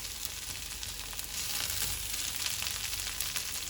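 Coarsely crushed coriander and cumin frying in hot oil in a pan, a steady close sizzle with bright crackling that swells slightly partway through and carries on without pause.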